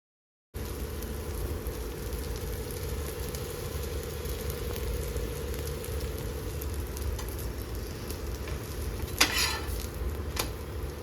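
Parotta frying in a generous pool of oil in a pan gives a continuous, even crackling sizzle, steady and close throughout, with one brief sharper spatter near the end.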